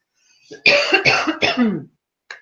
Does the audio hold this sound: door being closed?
no